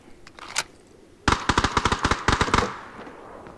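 A Tommy Gun in PUBG lets off a rapid burst of automatic fire, a dozen or so sharp cracks in quick succession, loud and close after a couple of faint earlier shots.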